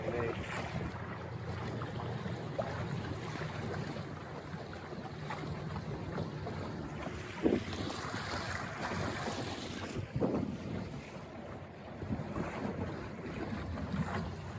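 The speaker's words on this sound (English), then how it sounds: "Boat sailing itself," Buccaneer 18 sailboat moving under sail in autumn wind, with steady broadband wind rush and water hiss throughout, a couple of brief knocks from the hull or rigging, no talking.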